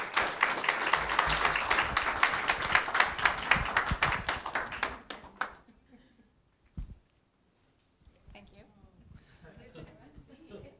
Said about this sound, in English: I'd like to invite her up here for a quick minute and a round of applause